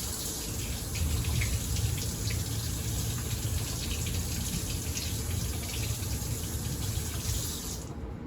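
Water pours steadily from a kitchen faucet into a sink, a continuous close splashing hiss that stops abruptly at the end.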